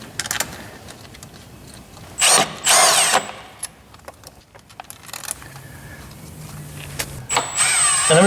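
Power tool whirring in short bursts as it runs down bolts on a new VRP transmission pan for a Mercedes 722.9 gearbox on an M156 E63, close and fairly loud, with ratcheting and clinking between bursts.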